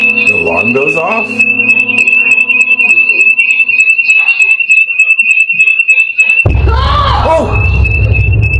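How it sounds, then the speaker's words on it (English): A home security alarm goes off indoors, a loud, piercing, steady high tone that sounds throughout, with voices and a sudden burst of shouting or screaming over it near the end. "to disable the home security alarm, which had gone off for unknown reasons"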